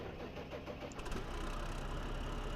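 A tractor engine in the Farming Simulator video game cranks and catches, then settles into a deep, steady idle rumble, close and moderately quiet, with no talk over it.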